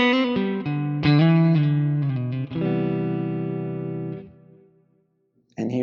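An electric guitar played through a Quad Cortex modeler rings out in a few strummed and picked chords, heavy and saturated, with the last chord sustaining and fading to near silence before a fresh strum cuts in at the end.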